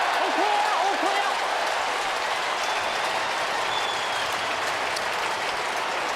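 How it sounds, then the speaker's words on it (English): Melbourne fans at the MCG let out a loud, sustained derisive roar during an AFL match against Fremantle, a dense crowd wash that fills the stadium with a commentator's voice over it. "There was an enormous Bronx cheer then from the Melbourne fans when Melbourne actually kicked the ball"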